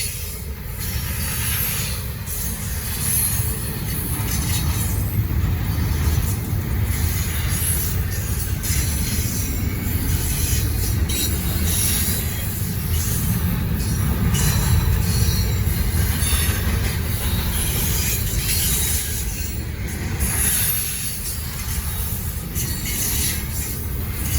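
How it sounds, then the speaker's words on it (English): A long Norfolk Southern train rumbles steadily past at night with continuous rolling noise, hissing wheels and occasional squeal, loud and sustained throughout with no voices. "another nice size train tonight."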